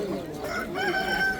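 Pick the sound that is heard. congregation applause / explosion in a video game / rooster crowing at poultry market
rooster crowing at poultry market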